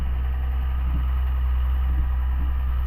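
A Ford TW25 tractor engine runs steadily close by, a deep constant rumble at an even pace with faint faster ticking on top, no voices.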